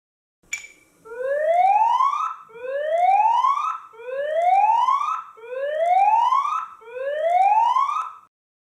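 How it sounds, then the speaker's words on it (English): A loud electronic siren built into a Moes WCM-P52 WiFi security camera sweeps upward in five repeated rising wails, each about 1.5 seconds long, with a brief beep just before it starts. "we can activate the siren built into the camera."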